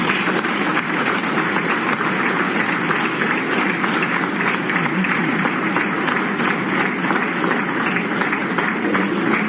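Sustained audience applause fills a conference hall in Freetown, Sierra Leone, dense steady clapping from a large crowd holding at an even level for the whole stretch with no talk over it.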